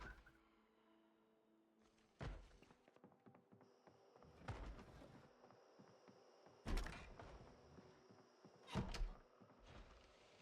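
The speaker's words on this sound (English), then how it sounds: "Maybe somebody banging on a door somewhere." Muffled, distant banging on a door inside the survival game Project Zomboid: a few heavy thuds spaced seconds apart over a low ambient bed, with no voices.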